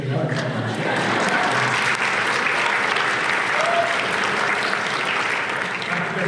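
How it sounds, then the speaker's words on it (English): Loud, dense clapping from a conference audience at an opening session, sustained evenly from start to finish with no pause. "I heard one clap, we can get another clap."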